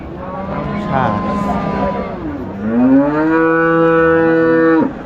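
A cow moos loudly and close by at a cattle market, one long drawn-out low call that rises and holds before cutting off.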